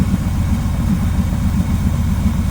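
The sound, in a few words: 1979 Pontiac Trans Am engine running, warming up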